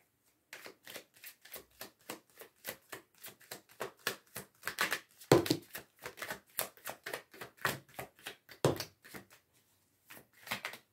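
Tarot cards are shuffled and snapped down in a long run of quick, crisp riffles and slaps, close and fairly loud, with brief pauses and no talking.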